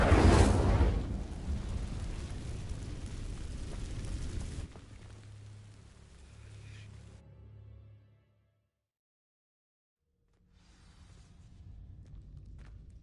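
Incendio fire spell in Hogwarts Legacy igniting dry vines: a loud, broad roaring burst that crackles and rumbles for several seconds, fades into a lower smoldering hum, drops to silence, then a quieter rumble returns.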